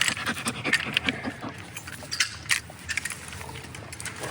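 A dog held on a person's lap during a rope rappel pants rapidly and close up, quick rhythmic breaths alone without any talk.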